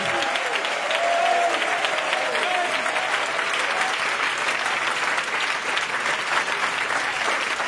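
A church congregation breaks into loud sustained applause that fills the room, a dense even patter of many hands that continues without letup.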